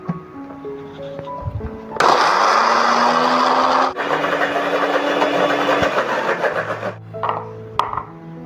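A blender grinds ingredients for orchid root fertilizer, a loud steady whirring that starts abruptly and runs several seconds. The whirring shifts once partway through and stops near the end, with quieter clatter before and after.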